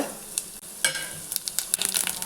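Whole spices, including bay leaf and black stone flower, crackle and sizzle in hot oil, a close, busy patter of small pops that grows denser toward the end.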